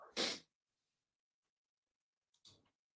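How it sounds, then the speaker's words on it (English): Two sneezes, the first a loud, close burst, then a shorter, softer one about two seconds later, with silence between. "I'm going to sneeze."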